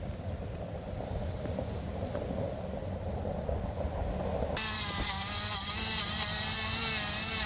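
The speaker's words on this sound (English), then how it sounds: "just cleaning everything up with our rotary tool" A rotary tool grinds rust off trailer metal during a Harbor Freight LED trailer light install, a steady close whir that shifts at the midpoint into a higher, wavering grinding whine with no talking.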